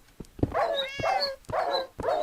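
Dogs in the Minecraft video game give a run of short, close barks and yips in quick succession, clear and fairly quiet with no talk over them.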